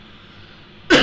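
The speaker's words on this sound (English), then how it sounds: "Didn't mean to cough in your ears" A single sharp, loud cough from a man breaks suddenly out of near silence, close to the microphone.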